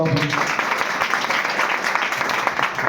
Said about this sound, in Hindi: एक बार लाइट के लिए जोरदार तालियां बजाओ।